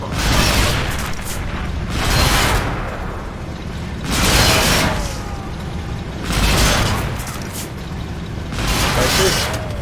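A Flakpanzer firing from the side during a World War II farm battle in a video game, with heavy booms recurring roughly every two seconds under loud continuous battle rumble.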